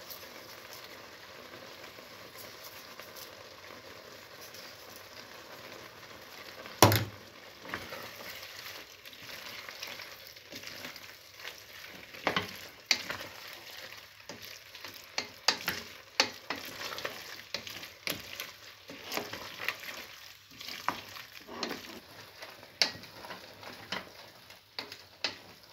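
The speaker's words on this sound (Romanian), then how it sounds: "Cărnița și-a lăsat zeama ei și fierbe înăbușit." Low, steady bubbling and soft sizzling of veal goulash stewing in its own juice in a pot with bay leaves and thyme, quiet and close, with occasional faint clicks and pops.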